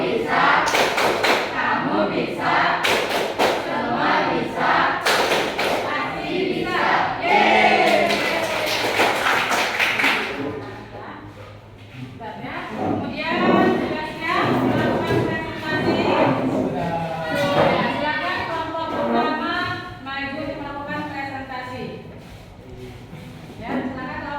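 Students in a class clap the rhythmic tepuk pasti bisa chant, with dense thumping claps that mix with group chanting and fade into voices and lighter claps, close and continuous.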